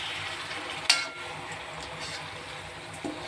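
Leafy greens stirred in a large wok: a soft, steady sizzle with a sharp scrape near the start and a light clatter toward the end, heard alone and fairly quiet.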